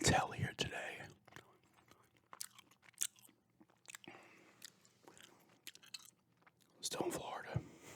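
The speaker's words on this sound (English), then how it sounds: "Doing a gum chewing show and tell here today." Gum chewed right up close: wet, sticky smacks and soft crunches in an irregular rhythm, with quiet whispering in between and a louder burst of chewing at the start and end.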